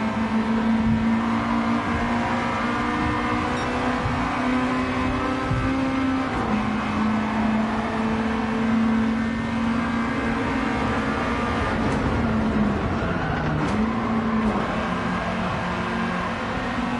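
A race car engine in the Gran Turismo video game drones steadily and loudly, its pitch rising and falling as the throttle is worked through acceleration and gear changes, with no talk over it.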